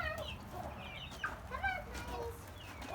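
Five young chickens cluck and peep outdoors in soft, irregular bursts at close range over a low background rumble.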